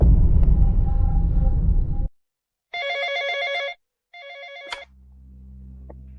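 A telephone rings in two clear bursts of electronic ringing with a pause between them, following a loud stretch of other sound and ending on a low hum.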